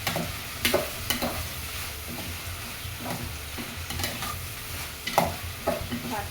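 Papaya and chicken curry cooks in a pan, with a continuous sizzle broken by repeated scraping and clattering strokes of a stirring utensil, close and fairly loud, no voices.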